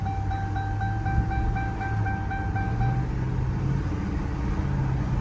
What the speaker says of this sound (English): All right, so test drive after doing the front passenger ball joint.